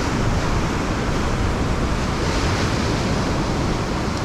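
Ocean surf breaking on a beach, a loud, continuous wash of broadband noise with no let-up and no voices.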